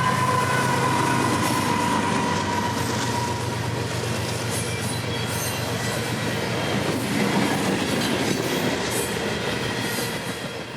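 Intermodal freight train IO32, a Jacksonville-to-Baltimore service, rolls steadily past at close range, with continuous heavy rumble and wheel clatter plus faint squeal, holding loud for the whole stretch before easing off slightly at the end.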